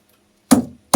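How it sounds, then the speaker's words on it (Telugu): Cardamom pods are pounded for coconut payasam, two sharp, close thuds about half a second apart after a moment of silence, each with a brief dull rattle. "యాలకులు దంచుకుందాం."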